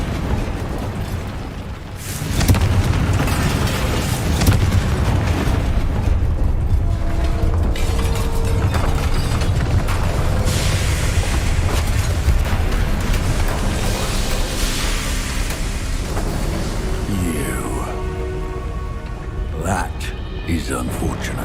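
A Confringo blasting spell explodes in Hogwarts Legacy with a loud, sustained rumbling roar and crackling debris that fades over about twenty seconds, while voices speak over it.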